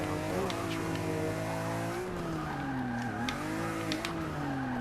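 A BMW E30 on street tires drifts downhill in 4th gear in a driving game, its engine revving loudly with pitch dips and rises as tires squeal, alone without talk.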